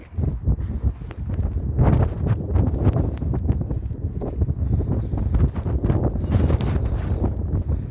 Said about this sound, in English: It's windy, guys. It's very windy.